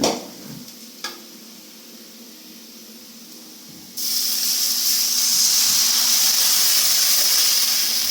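Water poured into a hot pan bursts into a loud, steady sizzle partway through, following a quiet stretch with a faint clink and low stirring; the hiss stays strong and continuous to the end.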